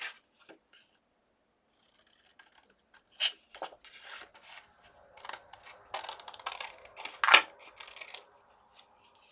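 Scissors snip through a paper tag in a series of short, close, crisp cuts and rustles, irregularly spaced with brief pauses, no talking.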